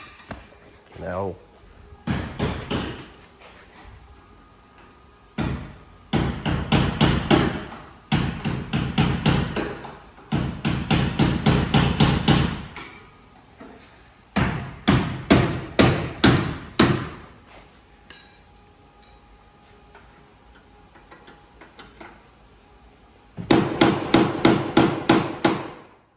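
Repeated hammer blows in bursts of rapid strikes, loud and close, separated by brief pauses with faint background noise.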